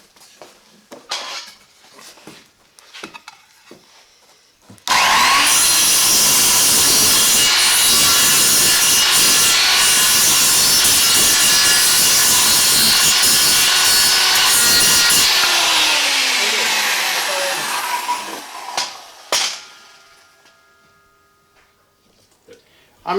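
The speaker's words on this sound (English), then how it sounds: "and I'll cut that right now." A hand saw cuts a notch in a wooden shelf for a power-strip cord, loud steady back-and-forth rasping for about ten seconds, with quieter handling noises and brief talk before and after.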